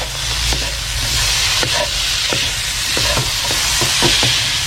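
Taro dumpling filling with tapioca starch being stir-fried in a pan, soft sizzling under repeated scraping and clacking of a spatula, steady and close with no talk.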